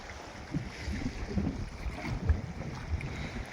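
Steady strong wind rushing over open sea with low rumbling gusts and faint sloshing waves, a blustery outdoor roar throughout with no voices.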